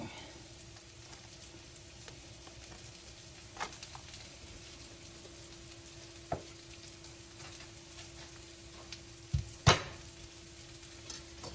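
Steaks frying in a pan sizzle softly and steadily, with a few louder pops and clatters near the end and no talking.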